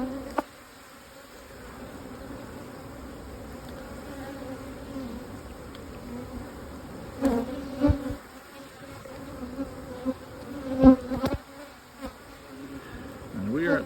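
Honey bees buzz around nucleus hives in a continuous droning hum, with individual bees passing close and loud at moments, alone without talk.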